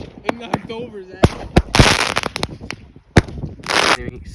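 A 16-shot firework cake goes off outdoors in a series of sharp, loud bursts with crackling tails, spaced irregularly, while people talk nearby.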